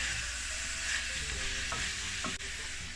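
Bell peppers sizzle steadily in a hot pan for chicken chow mein, a constant frying hiss with a few scraping stirs of a utensil near the end, close and continuous with no talk.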